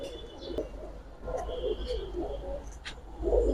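Giribaz pigeons coo softly nearby in a few low murmuring calls over a steady background hum, with faint chirps mixed in.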